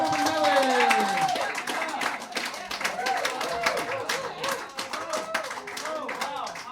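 A comedy show audience claps steadily and briskly, a dense wash of close hand claps that carries on throughout. A host's voice talks over the clapping and cheering.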